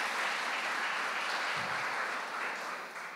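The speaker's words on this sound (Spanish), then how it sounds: "Dale un aplauso al Señor y celebra su victoria." A church congregation claps in praise during a sermon: a continuous, even wash of many hands, moderately distant and steady for about three seconds.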